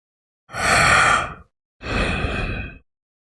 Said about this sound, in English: I don't remember being able to hear him breathing constantly before